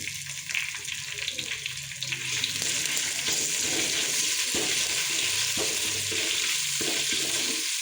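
Garlic paste, cumin seeds and coriander hit hot oil in a pan for veg pulao, a quiet hiss that jumps to a loud, steady sizzle after a couple of seconds, with faint stirring taps, close up.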